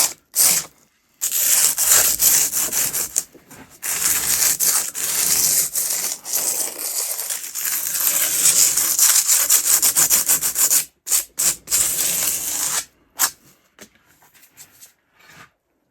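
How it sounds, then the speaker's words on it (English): Sandpaper rubbed along the sharp edge of a cast concrete bonsai pot, a close, steady, gritty scraping in long continuous strokes with a few short pauses. "Now I can use a sandpaper to put a little radius on it"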